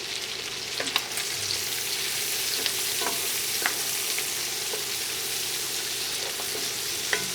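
Food sizzles and fries steadily in a pan for a St. Patrick's Day dinner, a dense continuous crackle close by, broken by a few sharp clicks and scrapes of stirring.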